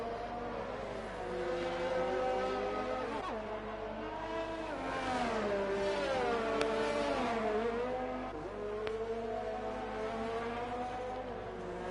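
F1 race cars in an esports race on the Australia circuit of the F1 game scream past with a sustained, rising and falling high-pitched engine whine, shifting through gears, steady and loud with no talk.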